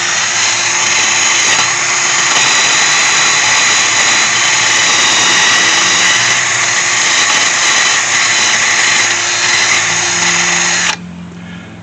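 A power tool with a wire brush whines loudly and continuously while scouring loose rust and scale off a 2009 Ford Focus front brake disc, then abruptly stops near the end.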